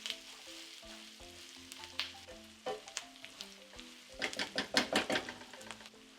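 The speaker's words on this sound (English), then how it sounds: "Cook this until the garlic have released their aromas and the ginger too." Garlic, ginger and jalapeno chili frying in a pan for aloo gobi, a steady close sizzle broken by several stirring scrapes and clinks, busier and louder toward the end, with no talking.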